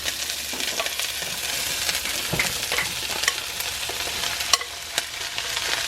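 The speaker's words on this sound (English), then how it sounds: "go ahead and give that a stir" Garlic chicken stir fry sizzles steadily in a pan while a utensil stirs it, scraping and clinking against the metal with occasional sharp taps, close and continuous with no voices.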